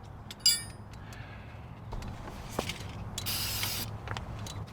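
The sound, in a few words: brake cleaner being sprayed on Wrangler brake lines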